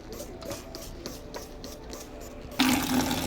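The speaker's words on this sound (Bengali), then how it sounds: "এরপরে আমরা গাছে জল দেবো এক্ষুনি।" Morning watering of rose and marigold plants in a small garden; a steady wash of running water, like a hose or can pouring, rises sharply and grows louder near the end, with light handling sounds earlier.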